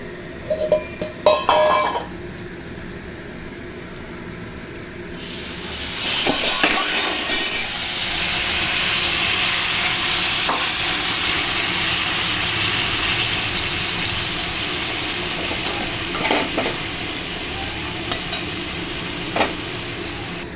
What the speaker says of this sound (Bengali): এবার এর মধ্যে আমি লাউগুলো ঢেলে দেবো।